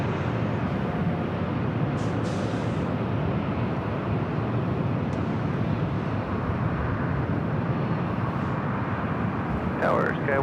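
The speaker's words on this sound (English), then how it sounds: "Avianca A320 Neo now rolling down the 24 left" An Avianca Airbus A320neo rolling down runway 24 left at Los Angeles airport for takeoff, a steady broad distant jet roar throughout, with radio voices talking over it.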